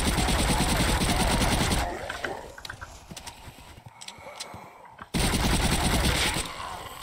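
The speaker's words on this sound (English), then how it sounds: "I have a gun that can just mow them down." Rapid gunfire mowing down zombies in a boat house zombie video game, dense bursts of shots loud at the start, a quieter stretch in the middle, then heavy firing again.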